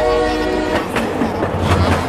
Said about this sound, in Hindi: ये देखो कितना प्यारा सुंदर ट्रेन चलता जी